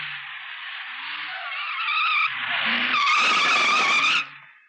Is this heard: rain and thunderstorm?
no